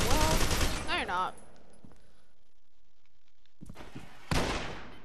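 Gunfire rattles in the shooter game FEAR 2: a voice speaks first, faint scattered shots follow through a quiet stretch, then loud bursts close in near the end.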